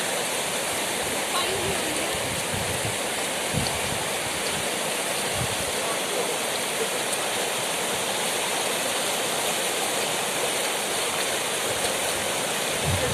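A mountain stream near Noori Waterfall in Haripur rushes with a loud, continuous broadband roar that stays constant throughout.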